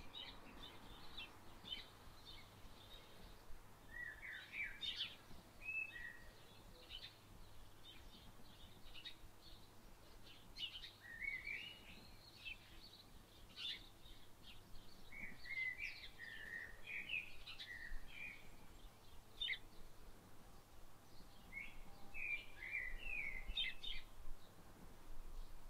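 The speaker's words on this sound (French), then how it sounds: "je te laisse 30 secondes pour profiter des oiseaux" Birds chirp and sing outdoors, with scattered bright calls and trills recurring throughout over a steady low ambient hum, moderately distant and alone without talk.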